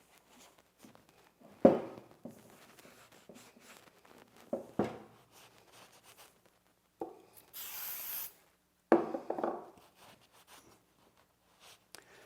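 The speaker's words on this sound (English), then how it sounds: "we're going to prepare this by actually spraying it down with some paint prep" Paint prep sprayed onto a surface before powder coating, heard as a few short spray bursts and one longer hiss, separated by quiet gaps with light handling noises.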